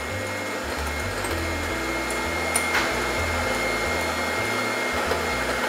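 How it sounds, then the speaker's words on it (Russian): Electric mixer whisking batter while vegetable oil is poured in, a steady loud motor drone with small pitch shifts as the beaters work, no talk. "Потихоньку вливаем растительное масло и продолжаем взбивать."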